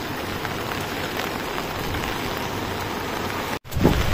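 Steady, dense rain pours down without a break in Benguet during overnight rain, then a brief dropout and a heavier splash of rainfall near the end.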